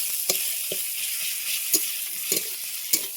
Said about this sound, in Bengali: পেঁয়াজ ভাজা হয়ে গেছে, এবার দিয়ে দিচ্ছি একটু রসুন বাটা।